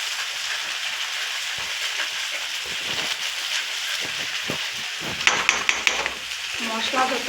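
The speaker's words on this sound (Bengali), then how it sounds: "আলুটা এদিকে রাখলাম আর মশলাটা আর একটু কষিয়ে নিই।" Spice masala is stir-fried in a pan while potatoes are pushed to one side. A steady sizzle runs throughout, and a run of sharp scrapes and knocks from a utensil comes near the end.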